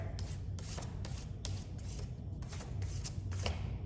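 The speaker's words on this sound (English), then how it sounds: "I'm actually gonna use the flat end of my paintbrush and I'm scraping it off." A paintbrush's flat end scrapes paint across a board for a rustic streaky sign finish, giving repeated close, rhythmic dry scratchy strokes, about one every half second, with no talking.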